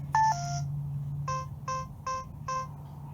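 Keypad on a Yale Assure multipoint smart lock beeping as a code is entered: one short two-tone chirp, then four evenly spaced electronic beeps, clear and close over a faint low hum, no voices.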